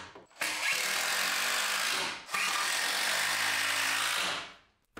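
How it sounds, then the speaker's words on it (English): A power drill drives screws through plywood shelves in two loud, close whirring bursts of about two seconds each, separated by a short gap. "it's just a matter of laying the plywood pieces on top and screwing them into place"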